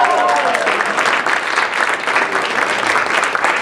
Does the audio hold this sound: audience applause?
yes